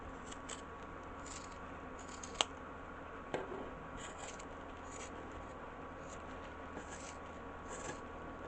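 Scissors snip through fabric for plush dog pattern pieces in a steady run of soft, close cuts, with a couple of sharper clicks among them and no talking.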